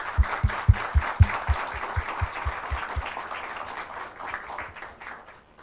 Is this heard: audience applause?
yes